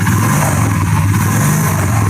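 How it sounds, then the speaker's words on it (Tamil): A 2018 Royal Enfield Bullet 350 BS4 motorcycle idles close by, its single-cylinder engine giving a loud, steady low thumping beat that continues evenly with no talking. "இப்போ கூட ஐலிங்கில் தான் ஓடிட்டு இருக்கு"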